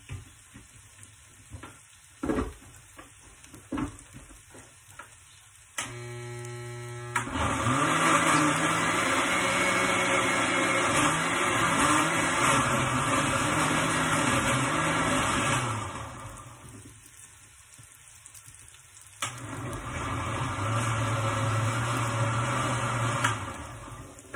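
A loud blender grinding salsa whirs for about ten seconds, stops briefly, then starts again, after some soft clattering at the start.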